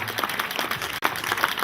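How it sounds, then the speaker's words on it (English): Applause for Terry, the barman, at a stockyard gathering with speeches: a steady wash of crowd clapping sustained throughout, moderately loud, with a brief dip near the middle. "Applause for Terry."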